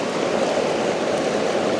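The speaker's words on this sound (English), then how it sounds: "We're going to feed it into the sluice." Water rushing through a gold sluice box during a small-scale gold panning outing, a steady, close, continuous wash with no talking.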